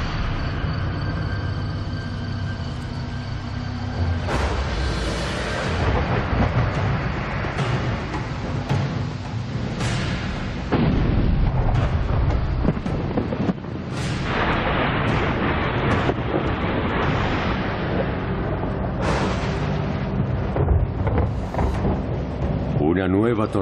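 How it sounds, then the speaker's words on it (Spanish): Thunder from a night thunderstorm rolls in heavy, continuous rumbles broken by repeated sharp cracks, loud and dense throughout. "Nueva tormenta ilumina la noche y se esfuma tan rápido como llegó."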